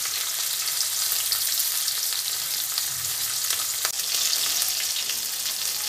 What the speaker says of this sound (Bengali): মাছ আমার পুরো ভাজা হয়ে গেছে